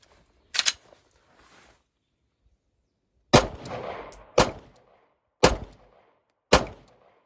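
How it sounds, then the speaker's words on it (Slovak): Shots from a Glock 5th-generation pistol: five sharp, loud reports spaced about a second apart after a pause, the second followed by a brief ringing tail. "Teraz si idem vystreliť z Glocku 5. generácie."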